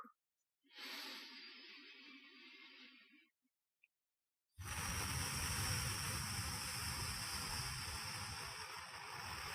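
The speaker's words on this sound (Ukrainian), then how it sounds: "глибокий, ще повільніший видих через рот" Slow, deep exhale through the mouth during a morning meditation, a soft breathy rush lasting a few seconds, then a longer broadband whoosh of breath close to the microphone with no talking.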